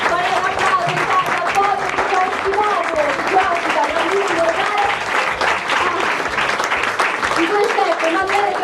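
Sustained, loud audience applause for chefs Emanuele Traverso and Cesare Caiello at a dinner event, dense clapping throughout with voices underneath.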